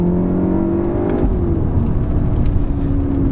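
Volkswagen Golf R, a four-wheel-drive hatchback, accelerating with a steady engine drone that climbs and shifts pitch, heard from inside the car, loud and continuous with road roar beneath.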